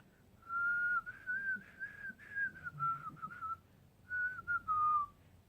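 Someone whistles a short wavering tune, clear and close, in two phrases with a brief pause between.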